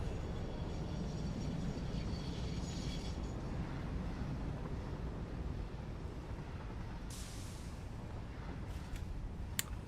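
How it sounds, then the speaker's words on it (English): Trains rumble in and out of a station in the factory-building game Satisfactory, a steady low mechanical roll with hissing bursts near the end. "So now I have 3 trains coming and going here at the front"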